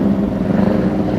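Motorcycle exhaust revving with a shrill, droning note, steady and fairly loud for a brief moment with no talking.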